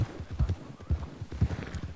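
Horse hooves clip-clop at a steady riding gait in a Western video game, a continuous rhythmic series of close, fairly loud hoof strikes with no talk over them.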